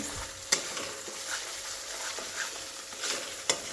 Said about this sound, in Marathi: मसाला एकदम मस्त परतून घ्यायचा